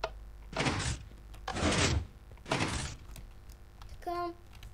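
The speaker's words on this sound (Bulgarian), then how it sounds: "ето е вашата автоматична врата" Minecraft redstone automatic doors opening and closing, three broad whooshing mechanical swishes in steady succession, followed by a short tonal chime, loud and close with faint background hum.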